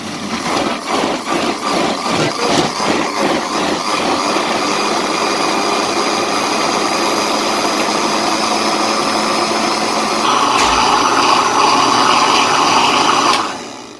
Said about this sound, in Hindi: अच्छे से ब्लेंड कर लेंगे